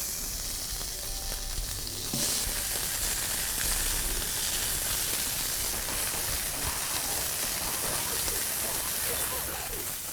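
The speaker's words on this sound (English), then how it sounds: "Now it's time to grill up those patties" Impossible meat patties sizzle loudly in hot vegetable oil, the frying hiss jumping up sharply as they hit the pan and then holding as a steady crackling roar.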